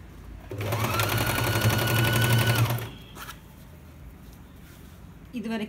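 An electric sewing machine stitches a Patiala pant in a steady fast run lasting about two seconds, then stops, with someone speaking softly afterward.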